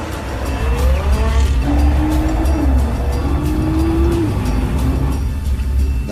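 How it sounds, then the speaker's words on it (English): A Nissan GT-R is test-driven at about 50 to 60 km/h over rough roads, producing a loud, continuous engine drone with rising and falling tonal whines and heavy low road rumble throughout. "We drive at about 50 to 60 kilometers per hour on rough roads to really jolt the suspension and wheels."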